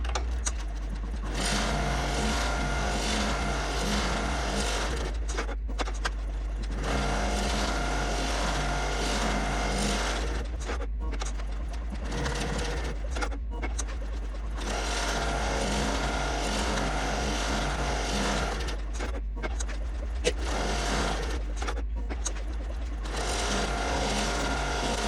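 A sewing machine stitches a glitter vinyl appliqué, running as a steady mechanical whir with a constant low hum underneath and brief pauses between runs, close and sustained with no voices.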